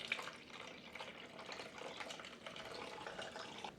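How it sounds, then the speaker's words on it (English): Water pours steadily into a commercial 304 stainless steel juicer machine to rinse it, a continuous close splashing and gushing stream with no talk. "I'm just going to pour water in here"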